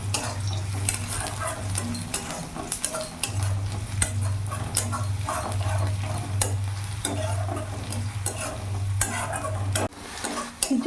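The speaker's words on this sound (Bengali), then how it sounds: "কিছুক্ষণ ধরে রসুন পেঁয়াজটা আমি ভালো করে ভেজে নিয়েছি" Garlic and onion fry in a pan with green chilli, a dense crackling sizzle mixed with the scrape and clink of a spatula stirring throughout, close and loud, briefly dropping near the end, with no talking.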